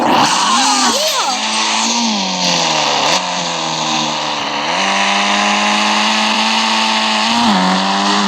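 A motorbike engine in the Indian Bike 3D video game revs loudly and continuously, its pitch rising and dipping as the throttle changes, with a person talking over it.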